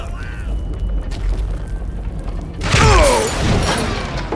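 An explosion in the video game Call of Juarez: Gunslinger, a sudden heavy boom about midway with crackling, rumbling debris and a fading tail, following a quieter stretch of low mechanical noise.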